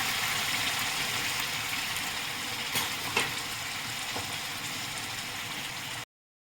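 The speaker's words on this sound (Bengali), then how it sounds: "নাড়িয়ে নিচ্ছি, নুনটা আমি এখন দিচ্ছি না, একটু পরে দেবো" Chicken biryani sizzles in a pan as it is stirred, a steady close hiss broken by a few faint scraping clicks before cutting off.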